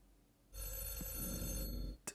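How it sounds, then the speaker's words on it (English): A telephone rings in a horror film scene: one long, steady, faint-sounding bell ring, then a short sharp click as it stops. "He's making the phone ring because she left him"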